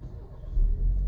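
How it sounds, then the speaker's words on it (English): A 2023 BMW X4 starts up, its engine catching and settling into a steady low rumble that swells partway through, close and fairly loud with no talking. "You can go ahead now and start the vehicle"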